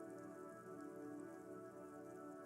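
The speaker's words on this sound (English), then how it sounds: "A silvery curtain of rain over the houses" Steady rain falls over city rooftops and tower blocks in the video game Disco Elysium, a dense, even hiss with soft patter that runs unbroken and fairly close.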